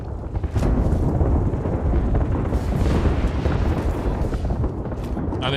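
Bangalore's ultimate artillery strike pounds the area in Apex Legends, a continuous rumbling barrage of booming explosions, loud and close, with a sharper burst early on and sustained roaring throughout.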